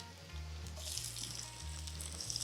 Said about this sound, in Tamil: ஸோ தாளிக்கிறதுக்கு 2 கருவேப்பிலை போட்டுட்டேன்.